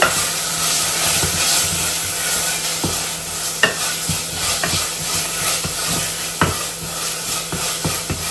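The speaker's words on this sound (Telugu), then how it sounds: "ఇది కొంచెం పచ్చి వాసన పోయే వరకు కొంచెం ఫ్రై అవ్వనిస్తాము" Ginger garlic paste fries in a pan with a steady close hiss and sizzle, broken by scattered scrapes and taps of a spoon stirring it, with no talking.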